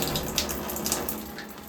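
Water runs steadily from a sink faucet to flush out the line, a close, continuous rushing splash with no talk.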